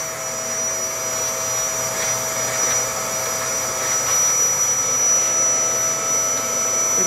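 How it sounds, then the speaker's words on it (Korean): A small dedicated vacuum cleaner with a brush attachment drones loudly and steadily as it sucks leftover coffee grounds out of a coffee grinder, a constant whine with no pauses. "청소기를 이용해서 솔로와 같이 해서 다 이렇게 흡입을 해 주시면 됩니다."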